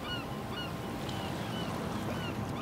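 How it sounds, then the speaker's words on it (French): Gull-like cries rise and fall at sea, well out from a beach, over a steady wash of water and wind. They sound faint and distant in a calm seaside scene. "comme le cri des mouettes au large, ou encore les bateaux qui partent pour un long voyage"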